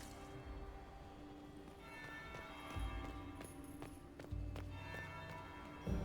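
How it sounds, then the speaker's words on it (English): A bell rings in the video game Dragon Age: Inquisition, heard as a few faint, distant strikes within busy game ambience that also holds muffled thumps and steps. "That's the bell."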